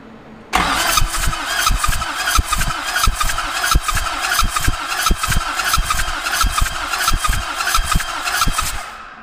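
A Duramax diesel engine cranks over on the starter during a compression test, a loud, close, rhythmic chugging that begins abruptly and keeps an even pulse for several seconds without firing, with no talking.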